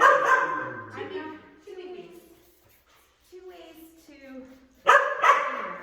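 A dog demand-barks with insistent barks and whiny yips, interspersed with rising whimpering vocalizations at close range, with no other sounds around.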